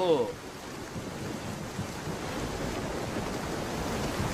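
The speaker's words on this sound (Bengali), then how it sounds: "বাতাস বাড়তাছে, সাবধান না হইলে" Strong gusting wind during a rainstorm in an animated cartoon, a broad steady roar that swells slightly toward the end, with a brief voice at the very start.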